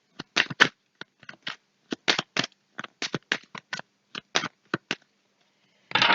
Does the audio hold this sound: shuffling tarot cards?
yes